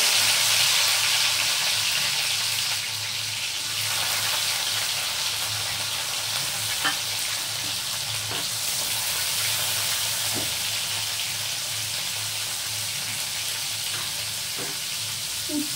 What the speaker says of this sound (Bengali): আমার উচ্ছেগুলো এখানে ভাজা হয়ে গেছে